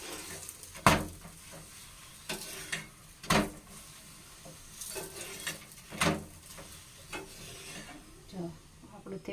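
Thepla flatbread frying in oil in a pan on a gas stove, with soft, steady sizzling broken by a few sharp scraping and stirring strokes from a spatula, heard up close with no talking.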